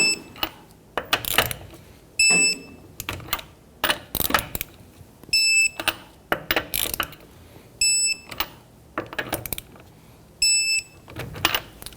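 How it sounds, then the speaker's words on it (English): Torque wrench tightening lug nuts on a 2011-2015 Kia Sorento wheel to 75 foot-pounds in a crisscross pattern, giving repeated bursts of ratcheting clicks with short bright beeps between them, close and fairly loud, no talking. "Let's go ahead and torque down our lug nuts to 75 foot-pounds."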